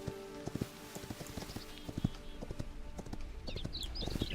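Horses in the video game Hytale clop steadily across the ground in a quick, irregular patter of hoofbeats, with a brief whinny near the end.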